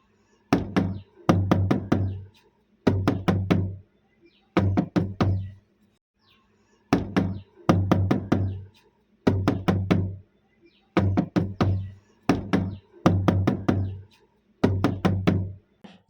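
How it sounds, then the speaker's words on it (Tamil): Knuckles rap on a house door in a children's moral story, repeated bursts of three or four sharp close knocks separated by short pauses, loud and clean with no talk. "மறுநாள் வணிகரும் உழவர் வீட்டிற்கு சென்றார் கதவை தட்டினார்"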